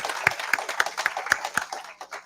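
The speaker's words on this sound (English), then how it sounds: "I want you guys to give yourself another round of applause for being here" A small group at an evening gathering claps briefly for themselves, a few sparse, distinct hand claps at a steady pace over a low room hum, fading out after about two seconds.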